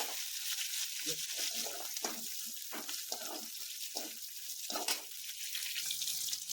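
Long red chilies hit hot oil in a pan, producing a steady, soft crackling sizzle with small popping bursts, close and continuous.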